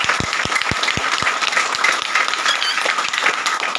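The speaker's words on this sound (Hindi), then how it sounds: "एक जोरदार ताली होना चाहिए।" Loud applause from an audience at a DXN business gathering in Ranchi, Jharkhand: dense, steady clapping throughout with a few sharper individual claps up front, no voices over it.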